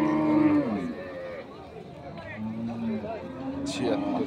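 Desi cows and calves at Ambari cattle market in Dinajpur, loud nearby moos at the start and again midway, with background crowd chatter and voices.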